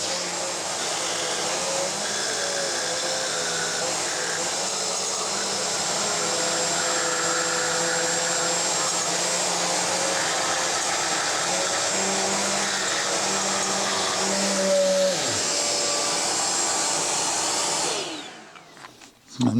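A rotary tool with a grinding bit smoothing the edges of an engine combustion chamber, a loud continuous high whine with shifting pitch as the bit bears on the metal, running almost the whole time before spinning down at the end.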